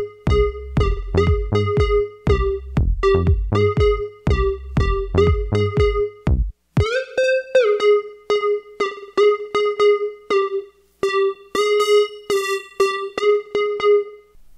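Loud synth lead from an ASM Hydrasynth: a staccato, repeated riff over a deep bass pulse, then after a brief gap a bright pitch-bending lead with rhythmic stabs.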